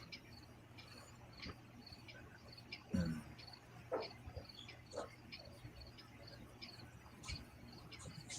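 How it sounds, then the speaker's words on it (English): Crickets chirp in a backyard, faint, thin, repeated trills over a quiet low background, with a few soft scattered noises nearby. "All I got is crickets singing in the backyard."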